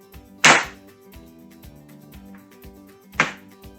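Kitchen knife cutting food while preparing a nut crusted salmon salad, two sharp chopping strikes on a board about three seconds apart over a quiet background hum.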